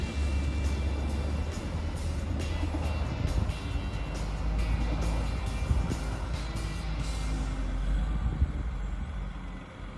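Dump trucks haul snow during winter city snow removal in Luleå, Sweden, a steady low engine rumble with heavy machinery droning close by throughout and faint clanks over the top.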